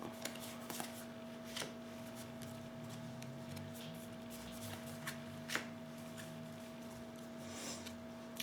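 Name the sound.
tarot cards being shuffled and drawn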